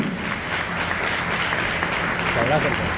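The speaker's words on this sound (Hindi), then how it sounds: "उनके लिए जोरदार ताली होना चाहिए।" An audience at a DXN business meeting claps for a late mentor in a continuous, moderately loud round of applause, with voices talking faintly underneath.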